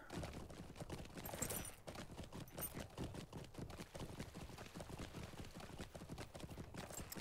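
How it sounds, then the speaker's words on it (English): Steady clip-clop of horse hooves during a ride in the video game LOTRO, a brisk even rhythm that runs continuously at close range. "We are definitely going to ride our horse here."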